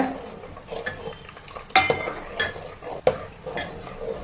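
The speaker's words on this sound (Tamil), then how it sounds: "இந்த மாதிரி கொதி வர்ற டைமில் நம்ம ஊற்றி கிண்டிக்க வேண்டியதாங்க" A ladle stirs hot sambar in a pot as liquid is poured in, giving soft scraping and splashing knocks with a couple of sharper metallic clinks, close and fairly quiet against a low kitchen background.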